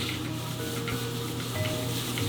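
Indonesian fried rice, nasi goreng, being stirred in a hot pan: a steady close sizzle with scraping and stirring strokes, continuous and fairly quiet, with no talking.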